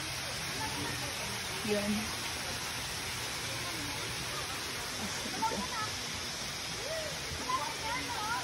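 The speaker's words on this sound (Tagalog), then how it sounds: "Tapos dito naman tayo sa may falls nila." Prinsesa Falls waterfall producing a steady, broad rushing hiss of falling water, faint and somewhat distant, under a person's quiet voice.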